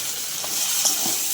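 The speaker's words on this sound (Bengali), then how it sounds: "আদা রসুন দিয়ে আবার ভালো করে ভেজে নেব" Half-fried onions sizzle steadily in hot oil with ginger-garlic paste for a Bengali mutton jhol, with faint stirring scrapes running through the continuous frying hiss.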